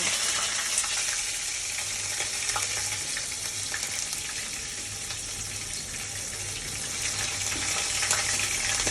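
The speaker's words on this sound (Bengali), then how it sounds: "প্রথমে আমি পেঁয়াজ দিয়ে দেব।" Onions hitting hot oil in a frying pan, a loud continuous sizzle and crackle that holds steady for several seconds, with no voices.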